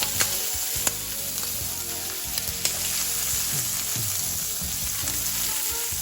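Shrimp and vegetables fry in a pan with a steady, close sizzle, broken by a few faint clinks and stirring sounds, with no voices.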